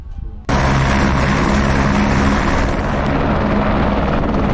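A helicopter lifts off for a heli-biking trip in New Zealand's Kaimanawa area, its rotor and engine roar starting abruptly after a brief quiet moment, then holding loud, close and steady throughout.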